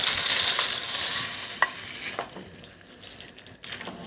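Pasta and chicken being stirred in a pan for an oven-baked casserole, with a soft continuous scraping and shuffling texture and a few faint clinks, fairly quiet and close, no talking.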